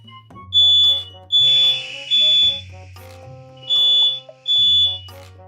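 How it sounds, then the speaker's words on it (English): A kitchen smoke alarm, set off during cooking, sounds five loud, piercing electronic beeps in an irregular pattern, each lasting about half a second to a second, close by. "Quiet fire alarm."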